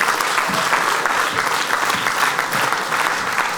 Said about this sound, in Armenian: եկեք ծափարենք Շուշանին